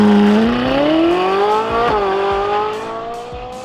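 A Ferrari 458 Italia accelerating hard in a straight line, loud close engine note climbing steeply in pitch, a quick gear-change break, then rising again with further shifts.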